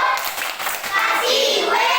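Children in a classroom clap together in a patterned class cheer, a dense burst of many hands clapping close and loud, with young voices mixed in.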